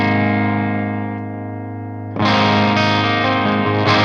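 Electric guitar through an Orange OR30 amp with the gain turned down and the noise gate off: a sustained distorted chord rings out and decays, then a loud new strum starts and sustains, close and full.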